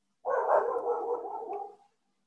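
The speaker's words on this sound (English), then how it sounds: "my dogs are barking" A single drawn-out, muffled bark from a dog indoors, moderately loud and lasting over a second before cutting off into silence.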